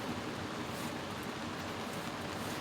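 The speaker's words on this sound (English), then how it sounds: "he can hear the rain on the awning" Rain falls on a van's awning during a heavy storm while camping, producing a soft, steady hiss of dense drops with no distinct beats, fairly faint and continuous throughout.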